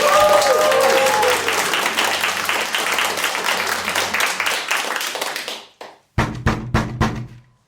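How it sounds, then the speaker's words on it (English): An audience breaks into loud, dense applause, with a brief whistle early on. It swells, then fades to near silence, and a few sharp, separate claps follow. "a round of applause"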